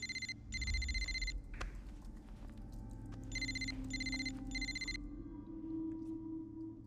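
A telephone rings in short double bursts, sounding twice, then a pause, then three more bursts, fairly clear against a low background hum.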